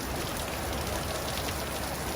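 Heavy rain pours down at an off-grid property with a new prefab shop, a dense, constant hiss of drops striking surfaces, loud and unbroken for the whole stretch.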